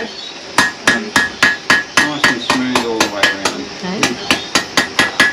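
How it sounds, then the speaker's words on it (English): A hammer strikes hot metal at a blacksmithing demonstration in a steady, rapid rhythm, each blow ringing sharply and close, about twenty strikes with short pauses between bursts. "if you hit it with a hard hammer"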